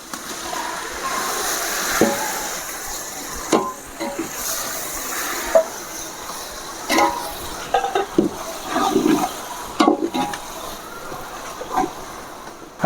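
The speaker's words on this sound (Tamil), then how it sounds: "இப்போ நம்ம தக்காளியை கொட்டிக்கலாம்." Tomatoes tipped into a pan of cooking masala for chicken biryani, giving a watery, splashy sizzle with wet stirring and clattering bursts, close and fairly loud, with no talking.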